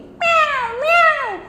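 A cat in a children's picnic story gives two drawn-out meows in quick succession, the second sliding downward, clear and close with nothing else around them.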